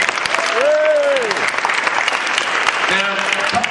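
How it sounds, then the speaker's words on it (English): Audience applause fills a live LugRadio event in 2007, a steady dense wash of clapping from a crowd throughout, with a voice speaking over it near the start and end. "give these guys another round of applause for Hash Lug Radio"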